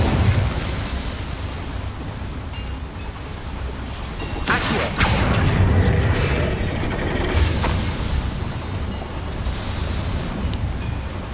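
Incendio fire spell cast in Hogwarts Legacy, a loud roaring burst of flame that flares around the middle and then sustains a rushing, crackling whoosh over a constant low rumble.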